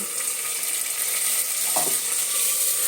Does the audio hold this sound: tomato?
yes